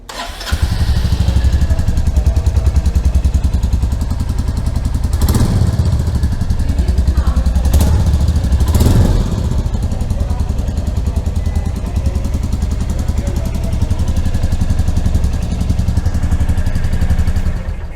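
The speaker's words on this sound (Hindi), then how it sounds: "मीटियोर 350 का जो साउंड है वो आप सुनो किस तरह का है।" A Royal Enfield Meteor 350 motorcycle runs close by with a steady, loud, thumping idle from its engine and exhaust, with a few sharper blips of throttle along the way.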